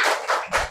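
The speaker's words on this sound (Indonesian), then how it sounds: "Tepuk semangat." Classroom students performing the 'tepuk semangat' spirit clap, a quick burst of group claps in three short, loud rhythmic pulses, close and bright, with no talking.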